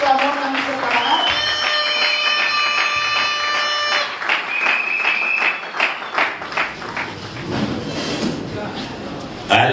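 A crowd applauds and cheers for the secretary general at a large political party rally, sustained clapping mixed with a blaring horn-like tone and voices throughout.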